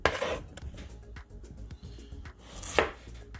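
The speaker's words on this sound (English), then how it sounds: "And then start cutting up the potato." A knife slices a potato for Canadian beef stew, a series of close, sharp chopping taps on a board at an uneven pace.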